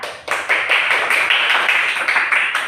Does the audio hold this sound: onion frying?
no